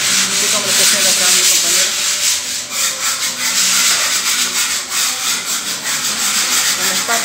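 Continuous rough scraping and sanding against a room's wall before painting, with repeated gritty strokes in an uneven rhythm, loud and close.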